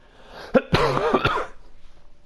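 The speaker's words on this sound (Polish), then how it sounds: "Jezu, jak ja nienawidzę kaszlu, kiedy nagrywam." A single harsh cough, close and loud, breaks into a quiet indoor recording and trails off into soft breathing and rustle.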